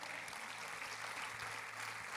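Church congregation applauding during a sermon at an anniversary service, a faint, even patter of many hands clapping at a distance, steady for a couple of seconds.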